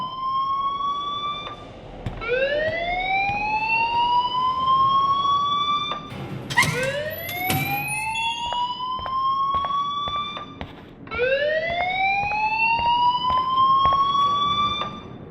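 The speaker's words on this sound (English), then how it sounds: "please turn off that alarm since that's your job" A school fire alarm in the video game Life is Strange wails in repeated rising sweeps, a loud piercing siren cycling for the whole stretch with a brief clattering break in the middle.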